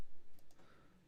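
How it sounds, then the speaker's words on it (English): A single crisp computer mouse click at the start, close and sharp, followed by quiet room tone with faint ticks. "I'm going to click next."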